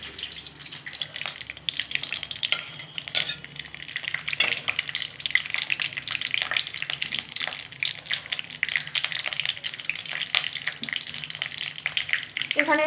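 Spices and vegetables sizzle steadily in hot oil for a Bengali vegetarian cabbage curry, with continuous crackle and occasional stirring scrapes, close and even throughout.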